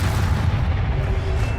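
A deep boom with a dense rumbling burst as the Expelliarmus spell is cast in the video game Hogwarts Legacy, heavy and sustained for under two seconds, no speech.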